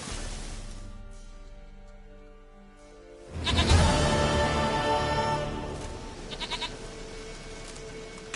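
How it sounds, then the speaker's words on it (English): Goat bleating in the open world of the video game The Witcher: Wild Hunt, sounding as several loud, wavering bleats after a quieter tonal stretch, with a second short burst of calls near the end. "Goat of mine, dearest, sweetest goat."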